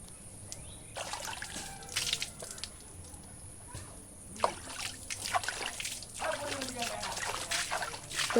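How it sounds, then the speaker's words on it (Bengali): Face washing under running water, with trickling and splashing from cupped hands in short bursts over several seconds, fairly quiet and close, with soft sounds of movement around it. "তাড়াতাড়ি মুখটা ধুয়ে নিই।"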